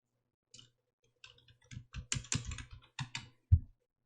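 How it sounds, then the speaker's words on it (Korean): Keys clatter in an irregular burst of typing on a computer keyboard while entering text into a PowerPoint slide, a dozen or so close, crisp clicks ending in one harder keystroke, with no talking. "내용 타이핑 하십니다."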